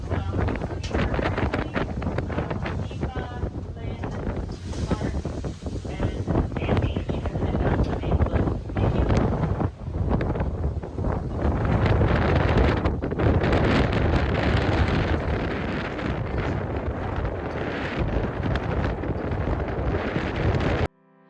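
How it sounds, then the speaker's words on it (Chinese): Aboard a large, rocking tour boat heading out to the Great Barrier Reef near Cairns, loud rushing water and buffeting wind roar continuously close to the microphone, drowning out almost everything else. "因为水声实在太吵了"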